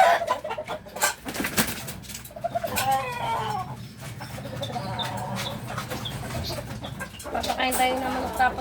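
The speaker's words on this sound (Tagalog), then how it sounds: "Papakain tayo ng manok" Chickens cluck repeatedly in a backyard during morning chores, with short, uneven clucks and coos close by while a person talks over them.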